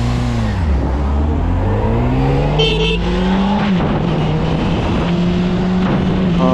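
A Honda CBR600RR sport motorcycle rides along in autumn, its engine a loud, steady drone close by that rises and falls in pitch as it shifts and revs, with wind rushing over it the whole time.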